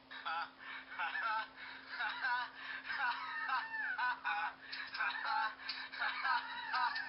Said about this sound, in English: This is my regular ringtone.